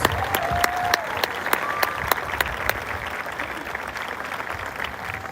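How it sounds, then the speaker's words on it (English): A crowd claps continuously and steadily throughout at a school band's ice cream social, a dense, even applause without cheering or speech. "Give them a big round of applause"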